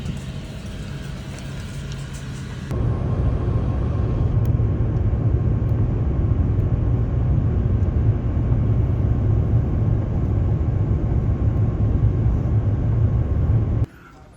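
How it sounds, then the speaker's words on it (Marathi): An airliner rolling on the runway at Mumbai airport just after landing, a loud steady broadband roar and rumble heard from inside the cabin, with quieter cabin hum before and after. "लँडिंग आताच झाली आहे हे बघा मुंबई एअरपोर्ट"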